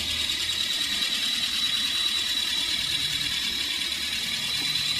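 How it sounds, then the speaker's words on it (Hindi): A Swaraj 963 tractor engine in a tractor video game drones steadily at a constant pitch, carrying a thin high whine and no speech. "दोस्तों ट्रैक्टर मेरा बहुत जबरदस्त है लेकिन नहीं चढ़ पाया"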